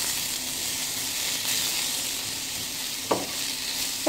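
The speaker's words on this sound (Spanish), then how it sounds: "Agregamos, amigos, los champiñones con el ajito." Mushrooms and chopped garlic fry in a pan with a steady, close sizzle, and one brief clink of a utensil partway through.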